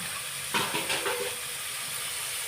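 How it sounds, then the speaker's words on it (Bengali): Water poured into mustard spice paste in a hot pan bursts into a sharp sizzling hiss that briefly swells and then settles into a steady frying crackle. "এবারে ওখানে আমি অল্প করে জল দিয়ে মশলাটাকে ফুটিয়ে নেব"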